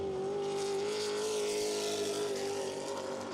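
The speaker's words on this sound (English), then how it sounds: "right now he's qualifying for the Larry King Law Modified" A modified race car on a qualifying lap screams past with a loud, steady engine drone that shifts slightly in pitch, dominating the sound with no voices.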